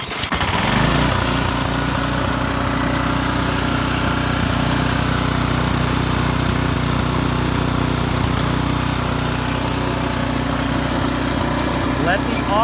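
Pull-start snow blower engine runs steadily with its auger spinning, a loud, constant droning roar with a rattling mechanical edge that holds level from start to finish.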